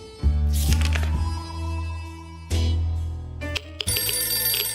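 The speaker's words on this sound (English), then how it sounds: "I'm hearing statics and phone calls." In the survival game 60 Seconds, a telephone rings in loud electronic bursts with pauses between them, mixed with static-like crackle and no talking.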